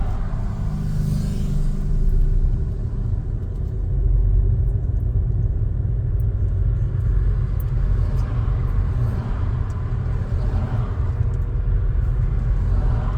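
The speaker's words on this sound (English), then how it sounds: "So we're just crawling along in 1st gear." A car crawls along in first gear in town traffic beside a bus lane, giving a low, steady engine rumble from inside the cabin that stays loud and even throughout, with no talking.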